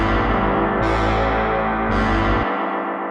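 Synthesized brass tones built in Soundtrap ring out with heavy added reverb, sustained chords shifting twice before one tone drops away into a lingering wash, loud and without speech.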